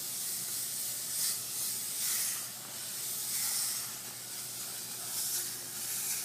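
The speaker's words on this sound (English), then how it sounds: "Notice how strong the spray pattern is." An airbrush spraying paint gives off a steady, smooth hiss that swells and eases slightly as the trigger is worked, close and continuous with no talking.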